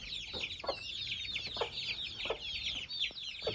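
Newly hatched Aseel chicks chirp continuously in high, busy peeping, with a few low clucks and soft thumps underneath, heard close and moderately quiet.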